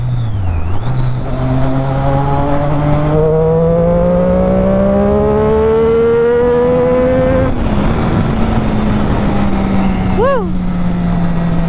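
A Triumph Daytona 675R superbike pulls hard through the gears, its engine note climbing steadily and dropping sharply at each quick-shifter upshift, loud and close to the microphone, with a rider's brief whoop and some talk over the roar.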